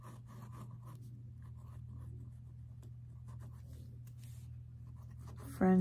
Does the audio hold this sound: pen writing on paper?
yes